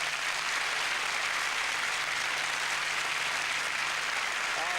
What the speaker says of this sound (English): Like to give my brother a round of applause.